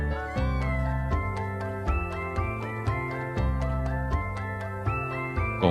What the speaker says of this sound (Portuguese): esse é um gato jovem, porém completo